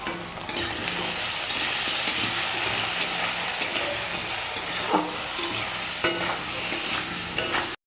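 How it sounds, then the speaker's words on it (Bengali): Spices fry in hot oil for khichuri, with loud, close sizzling and sharp spattering pops breaking out irregularly over a continuous hiss, no one speaking. "এমন করে তেলগুলো ছিটে আসলো"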